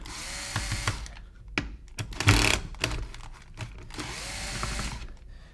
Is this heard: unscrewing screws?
yes